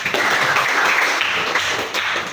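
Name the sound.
applause, clapping in a class session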